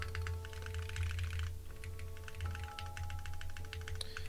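Steady typing on a Keycult No.2/65 mechanical keyboard with leaf springs, a close run of quick, soft key clacks with a brief pause partway through, alone without talk.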